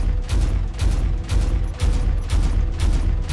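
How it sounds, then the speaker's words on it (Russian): A turret from the Aryx Weapon Enterprises mod in Space Engineers fires heavy booming salvos about every half second, each a deep low-end thump with a crackling tail, loud and steady throughout. "Включаем турель."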